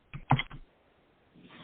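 Typing on a computer keyboard comes as a short cluster of soft clicks and then a faint trailing tap, quiet and close, with no talk over it.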